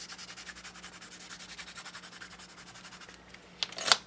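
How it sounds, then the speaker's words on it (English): Pumice stone ink is rubbed onto a paper tag with quick, even back-and-forth strokes, a soft close scrubbing rhythm that ends in a couple of sharper scratchy taps. "Take that pumice stone ink and just rub it on there."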